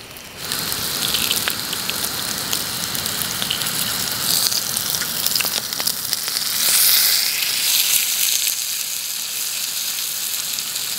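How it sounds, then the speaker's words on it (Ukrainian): Food fries in a pan outdoors on a fishing trip, a loud, steady sizzle with crackling pops running throughout, no voices over it. "Ось так смажиться"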